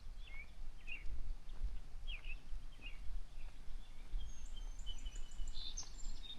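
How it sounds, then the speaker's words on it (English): Scattered bird chirps and calls at a distance over a low, rumbling outdoor background, with brief tweets repeating throughout, on a loop trail in Pipestone, Minnesota. "You can hear all the birds and everything going."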